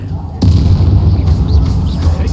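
A spell blast in the Hogwarts Legacy video game: a sudden booming burst hits sharply and then rolls into a sustained low rumble that carries to the end.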